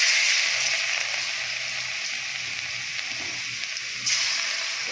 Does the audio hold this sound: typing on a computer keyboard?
no